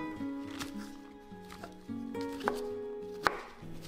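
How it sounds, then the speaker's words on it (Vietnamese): Brisk knife mincing brown button mushrooms on a board, a run of quick sharp taps in uneven rhythm, close up with a faint tonal hum behind. "150g nấm mình sẽ bằm nhỏ, bằm vừa vừa, cũng không có nhỏ lắm"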